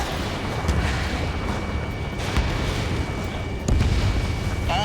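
Explosions and booms from SAM sites being destroyed in the combat flight game Ace Combat 7 rumble heavily over a constant dense roar, with a few sharper blasts standing out.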